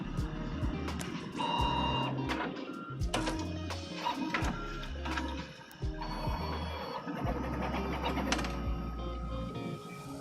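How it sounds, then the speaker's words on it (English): A Prusa Core One INDX 3D printer calibrating its tool offsets, with steady motor whine, repeated low stepper buzzes and short mechanical clicks and taps running continuously and close by. "It's calibrating all the tool offsets."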